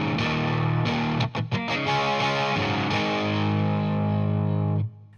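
Electric guitar strummed through distortion in a rhythm, loud chords broken by a quick burst of muted scratch strums, then ringing out before stopping.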